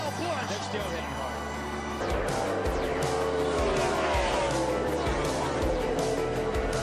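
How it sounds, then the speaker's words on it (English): Race cars crash in turn two of an oval track, engines roaring with squealing, skidding tires and sharp impacts, loud and continuous, while commentators talk over the action. "Oh, big crash in turn number 2."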